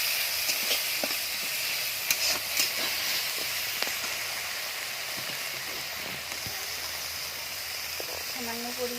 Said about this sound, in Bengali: আদা দিয়ে দেবো 1 চামচ, জিরে বাটা 1 চামচ, হালকা একটু নেড়ে চেড়ে